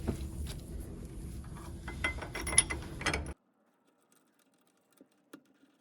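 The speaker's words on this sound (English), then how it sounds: "all I'm doing now is tightening it by turning it clockwise until this entire puller brace locks on the back side or bolt head of all 3 bolts" A harmonic balancer puller bolt being tightened clockwise on a Mercruiser 3.0L engine gives a close, continuous run of ratchet clicks and metallic rasping for about three seconds, then stops. A few faint clicks follow in near silence.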